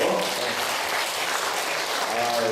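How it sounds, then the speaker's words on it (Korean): Steady, dense applause from a congregation at a nationwide church gathering, continuous and fairly loud throughout, with a voice faintly audible at the start. "박수 한번 쳐주시고요"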